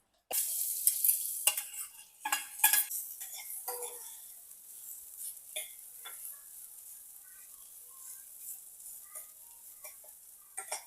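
A small amount of oil with a pinch of turmeric sizzles in a pan for an Agri-Koli dried bombil chutney, with a spoon scraping and stirring in bursts early on, then a steady low frying hiss.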